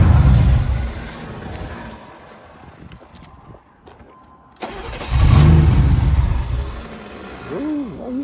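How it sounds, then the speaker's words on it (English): A Chevrolet Caprice Classic car engine cranking over and catching, then revving loudly up and down close by, with a quieter idle in between and rising pitch sweeps at the end. "Let me crank it up, see if that will suck in the radiator real quick."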